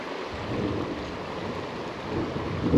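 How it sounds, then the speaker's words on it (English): Thunder rumbling far off behind steady rain while fishing out on the water, a low continuous roll that swells slightly near the end and has no speech over it. "Hear that thunder?"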